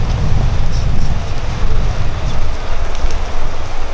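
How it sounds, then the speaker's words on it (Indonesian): Rain falling outdoors near a food court in Lawas, a loud steady wash of rain with a dense low rumble, continuous and without speech. "Masih hujan."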